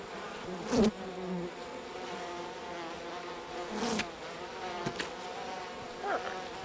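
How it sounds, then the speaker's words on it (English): Bees buzzing in the video game We Happy Few, a steady close insect drone with individual bees whooshing past the listener several times. "Oh, hello, bees."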